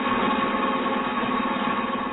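An experimental car engine running on water-modified fuel, idling with a steady, even hum and fine mechanical vibration, moderately loud and alone, with no talking.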